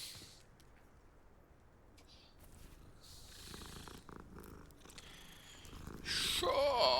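A cat purrs close by in a steady, soft, continuous rumble that grows louder toward the end, with some brief rustling near the finish.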